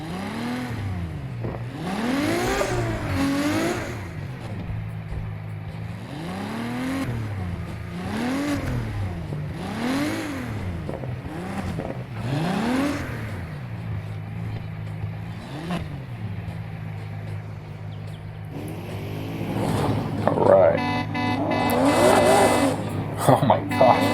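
A car in Need for Speed Heat accelerates hard through its gears: engine revs climb repeatedly and are cut by abrupt, violent shifts, then settle into a steady high-speed drone with tire noise at the end.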